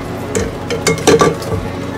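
A big salad bowl coated in dressing and leftover bits is set down inside a Farberware portable countertop dishwasher, giving a few close, light clinks and knocks of dishware over roughly two seconds.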